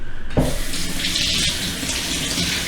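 Tap water runs into a kitchen sink while mushrooms are washed, a steady loud gushing stream that starts abruptly and continues without voices.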